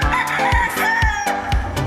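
A rooster crows loudly and close, its harmonic call ringing out amid sharp clucks and fowl noises in a busy, steady rhythm.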